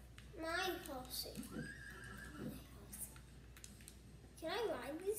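A horse whinnies loudly in the Disney Infinity video game (Lone Ranger playset), a shaky rising-and-falling neigh near the start and another at the end, with a voice talking in between.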